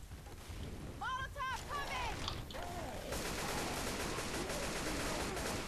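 Players in Left 4 Dead 2 fire at the Tank at the Dark Carnival, with rapid, fairly quiet gunfire rattling continuously under brief voices and game noise.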